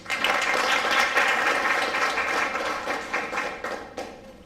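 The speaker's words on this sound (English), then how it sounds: "again big round of applause" Steady, dense audience applause at an HR round table evening event in Pune, filling the space for several seconds before starting to thin out toward the end.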